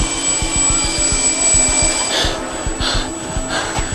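A helicopter's rotor beats in steady rapid thumps under a continuous whining engine drone, loud and close, with no one speaking.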